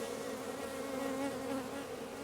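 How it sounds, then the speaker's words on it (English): Honey bees swarm around a farm beehive, their dense, steady buzzing close and continuous throughout without any speech. "Well, plenty of bees."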